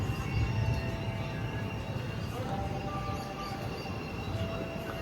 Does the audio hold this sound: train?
yes